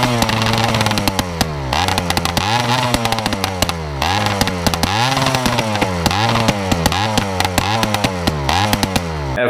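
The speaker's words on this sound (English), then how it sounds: "I just let go of the kill switch, it revved up, I dumped the clutch" A flame-shooting motorcycle's engine revs up hard after the kill switch is released. Rapid rising and falling rev sweeps repeat throughout, loud and close, with crackling pops between them and no talking.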